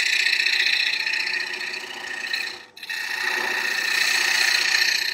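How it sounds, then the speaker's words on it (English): A 55-degree bowl gouge makes a bevel-riding cut on a spinning wooden bowl, giving a steady close rasping scrape that runs almost continuously, with one brief break before the cut picks up again. "So I'm going to start off with my traditional 55 degree bowl gouge."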